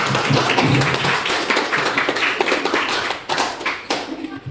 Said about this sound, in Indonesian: Kita berikan aplaus untuk semua.